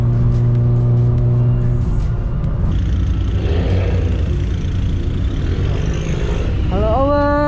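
Close engine drone of a Volkswagen Scirocco R chasing a supercar, holding steady, then easing off before climbing sharply in a revving burst near the end, with speech mixed in under the noise.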